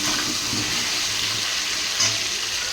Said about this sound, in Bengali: নুন হলুদ দিয়ে ভালো করে আলুটা লাল লাল করে ভেজে নেব